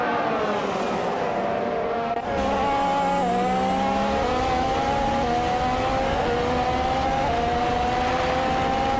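Several 2014 Williams FW36 Formula One cars race in a video game, engines whining loud and steady with gear-shift pitch jumps, a dense pack of overlapping engine notes and occasional tire squeal.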